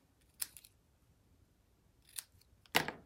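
Scissors cutting out a stamped paper wrench shape, heard as three quick separate snips, the last one loudest, with quiet pauses between them.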